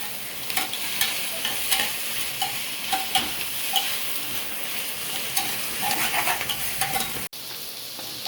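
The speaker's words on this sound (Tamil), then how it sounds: "புதினா, கொத்தமல்லி இதெல்லாம் நிறைய போட்டால் நல்லா போட்டு நல்லா வணங்கணும்." Mint and coriander leaves sauté in hot oil in a pan for tomato rice, a steady close sizzle broken by repeated scraping stirs of a spoon, loud and without talk.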